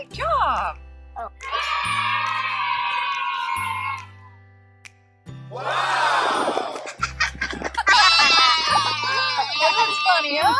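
Loud, close sheep bleats come in several drawn-out wavering calls separated by short gaps, with people talking between them.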